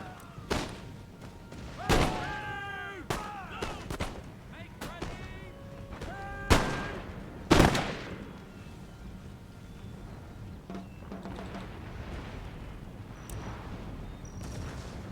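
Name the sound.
artillery fire in the video game Empire Total War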